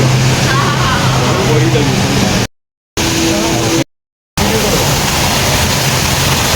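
The indoor waterfall at Jewel Changi Airport roars in a loud, dense, continuous rush of falling water, broken by two brief total dropouts.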